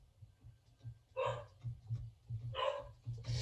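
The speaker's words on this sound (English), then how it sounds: "Apologies if you can hear my dog Winston barking in the background." A dog barks in the background in two short bursts, fairly close but moderate in loudness, over a low steady hum.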